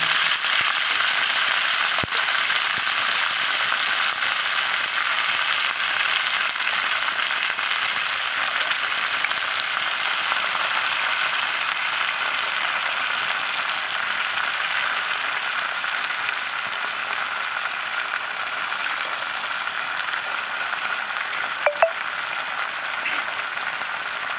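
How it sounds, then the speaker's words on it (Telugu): Washed gongura leaves fry in oil in a pan, giving a steady, close, even sizzling hiss that carries on without a break, with a few faint clicks. "ప్యాన్ పెట్టి దాంట్లో ఆయిల్ వేసుకొని ఇప్పుడు గోంగూర కడిగి బాగా కడిగేసి దాంట్లో వేసేస్తాను"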